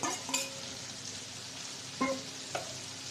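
Meat with potato, carrot and tomato sizzles in a pan while a spoon stirs it, with a low steady frying hiss and a few sharp metallic clinks against the pan, close and quiet.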